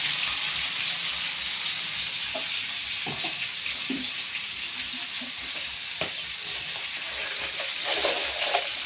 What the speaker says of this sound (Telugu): ఇవి కొంచెం మంచిగా ఫ్రై అవ్వాలి.